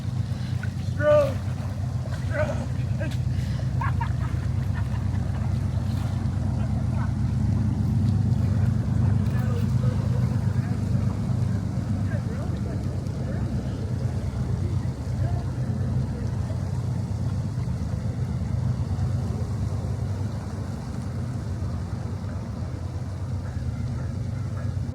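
A boat is paddled across open water, with a steady low rumble of hull and water, wind buffeting the microphone, and a few splashing strokes early on under faint voices.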